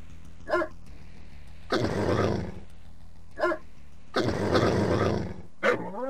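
Attack dog Chitzkoi in Command & Conquer Red Alert: short barks and growls alternating with two longer roaring, noisy bursts, loud and close, with no talk.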